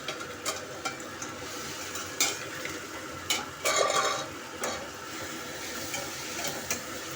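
Chutney ingredients frying and being stirred in a pan, with spoon scrapes against the metal over a steady low sizzle, the scrapes arriving as several distinct bursts. No one speaks.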